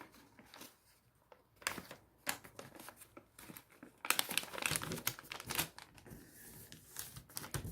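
Fabric for cycling bibs being folded along a marked line, with close, soft crinkling and rustling handling sounds that grow busier and louder toward the end.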